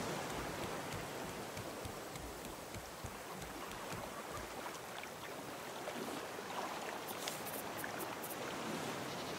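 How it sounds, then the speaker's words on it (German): Rain in the survival video game Raft, a steady broadband hiss and patter with faint watery lapping underneath, fairly quiet and continuous, with a few brief sharp clicks near the end. "Ach, weil es regnet."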